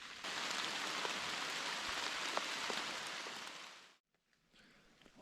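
Steady rain patters on leaves and ground in Pennsylvania mountain woods during archery season, a dense even hiss that cuts off abruptly, leaving faint drips.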